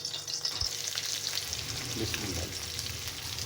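Lamb chops frying in a pan, a steady close sizzle and crackle with faint stirring scrapes; a voice speaks briefly near the start.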